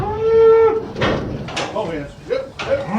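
Cattle moo loudly during trailer loading on a ranch, one long low call followed by shorter bellows and rattling clanks, with a voice talking over them.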